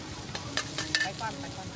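Pad thai frying in a wok at a Thai street vendor's stall, tossed with a wok turner: a brief close sizzle with quick metallic scrapes and clinks.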